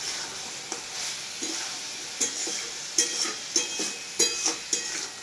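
Lightly salted food sizzles in a frying pan as it is stirred, a steady hiss broken by repeated scraping strokes of the spatula, close by, with a single brief spoken word.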